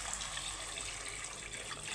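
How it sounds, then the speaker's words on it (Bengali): Water poured into a pan of cooked-down fish curry masala, a faint, steady hiss-like trickle with no talk. "দিয়ে দিব জল"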